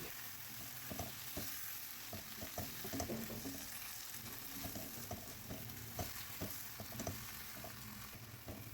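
Onion and eggplant pulp for baingan bharta being mixed in a pan over low heat, soft irregular scraping taps over a faint, steady sizzle, quiet and close.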